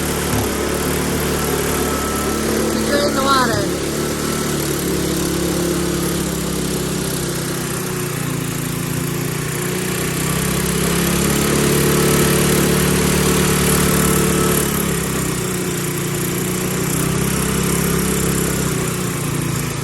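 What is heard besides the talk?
snowblower engine running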